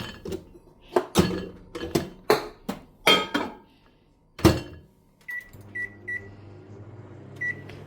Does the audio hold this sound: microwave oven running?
yes